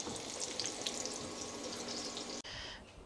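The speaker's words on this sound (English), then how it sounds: "I'm just going to fry this off" Panko-crumbed prawns frying in a pan, a dense, continuous sizzle and crackle close up, briefly cut off near the end before a softer sizzle resumes, with no voices.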